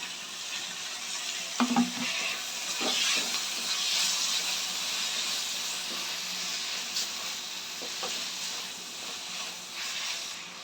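Chopped tomatoes fry in a pan with a steady hiss and sizzle, broken by a few stirring scrapes and clicks.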